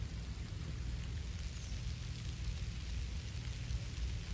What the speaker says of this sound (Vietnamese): Mưa luôn rồi.